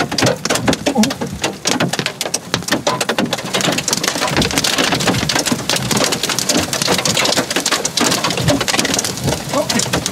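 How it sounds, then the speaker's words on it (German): Hailstones about 3 cm across pelting the ground during a supercell with almost no rain, a dense continuous clatter of sharp hard impacts, close and fairly loud, with occasional birdsong in the background. "Der Hagel hat zwar nur um die 3 cm, aber die hartgefrorenen Steine hüpfen wie Flummis über die Landschaft."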